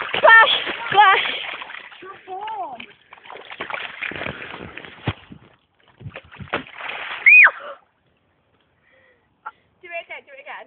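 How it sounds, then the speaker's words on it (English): Girls splashing through a deep rain puddle outdoors in the rain, with several loud splashes and sloshes early on, mixed with their excited talking and squeals, then quieter moments with brief splatters. "Splash, splash."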